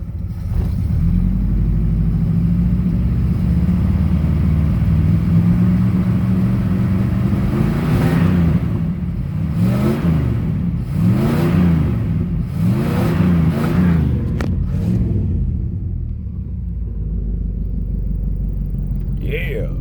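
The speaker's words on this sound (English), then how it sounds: "Let me give it a little gas real quick, see what it's doing." A 1965 Dodge 880 Custom's engine idles with a steady low rumble, then gets several quick blips of throttle that rise and fall in revs before settling back to idle, loud and close.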